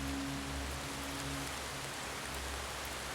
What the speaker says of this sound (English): Yeah, it's always raining in this timeline, isn't it?